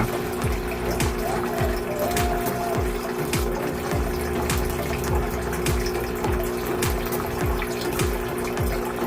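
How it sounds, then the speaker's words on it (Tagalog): Steady, loud rain hisses continuously, with a regular pattern of drips tapping throughout and no voices. "Umuulan ngayon guys dito sa amin."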